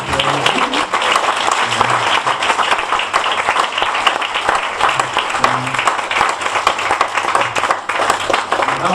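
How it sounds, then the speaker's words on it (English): A crowd at a question-and-answer talk breaks into steady, vigorous applause that carries on for the full span, loud and continuous, with a faint low hum underneath. "I think we should give my parents a round of applause"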